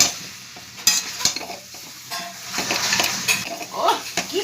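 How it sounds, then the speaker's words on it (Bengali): Chicken curry with potatoes being stirred and tossed in a pan, with steady sizzling and a series of spoon scrapes and clinks against the metal, close and moderately loud, with no talking. "এবার এর মধ্যে আলুগুলো সব দিয়ে দেবো, আবার সব একসাথে ওলট পালট করবো"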